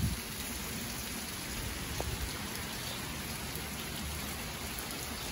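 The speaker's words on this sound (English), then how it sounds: "So, yeah, it's powerful rain." Heavy, powerful rainfall from Tropical Storm Isaias pours steadily in a dense, even hiss, close and continuous with no voices.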